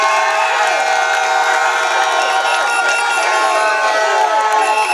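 A crowd at a public gathering claps and cheers in a dense, loud, continuous roar of applause and shouts that holds steady throughout.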